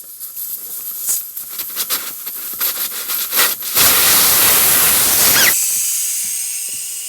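A sustained broadband hiss of air escaping a tyre as its old valve is pulled out, starting abruptly after some workshop handling clatter, holding loud for about two seconds, then cutting off sharply.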